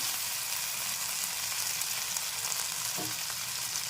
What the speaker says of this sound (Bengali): এখানে হলুদ গুঁড়ো আর লঙ্কা গুঁড়োটা দিয়ে একটু নেড়ে কেড়ে নিলাম